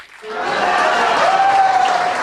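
Audience applause at a stage event, clapping rising quickly into a loud, sustained burst with a faint tonal ring underneath.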